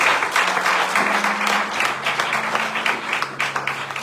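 A church congregation applauds for the Lord in a continuous, dense wash of clapping and cheering that holds steady throughout, with a few sustained vocal tones under it.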